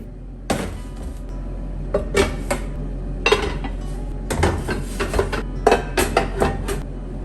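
Daily-use dishes, spoons and kitchen utensils being set onto kitchen shelves: repeated close clatters and metallic clinks in irregular bursts, some sharp knocks like cupboard contact, with no talking.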